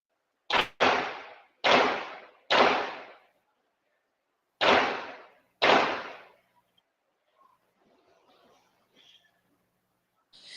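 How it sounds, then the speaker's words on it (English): Five sharp gunshots captured on a camera's audio: three in quick succession, a short pause, then two more, each ringing out with a decaying echo, followed by faint background sounds. "You hear the 3 shots and then you hear a little pause."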